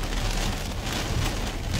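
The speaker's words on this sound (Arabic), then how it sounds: "حاليا أمطار الخير على صاع ما شاء الله." Heavy rain pours steadily east of Umm Ghafa in Al Ain, United Arab Emirates, as valleys flow; a dense, continuous roar of drops hits the ground close by, loud and alone with no voices.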